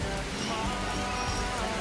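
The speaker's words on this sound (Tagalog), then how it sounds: "Ayan, umuulan." Steady rain falls outdoors, a dense, even hiss of drops on surfaces lasting throughout with no voices.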